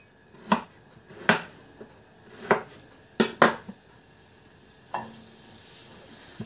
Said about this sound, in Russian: Без масла пока брошу в сковородочку, пусть в собственном соку